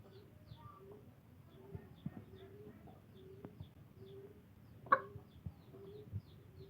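Local desi chickens clucking softly in a coop, a series of short, low, repeated clucks and murmurs at close range, with one sharper squawk midway and a person talking quietly alongside.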